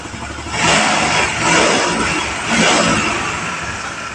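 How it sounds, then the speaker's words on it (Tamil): Rebuilt Suzuki Access 125 scooter engine running, a steady mid-pitched hum that swells in three rev surges before settling back, close and loud with no talk. "இன்ஜின் வேலை செஞ்சு வண்டி ஓட விட்டாச்சு."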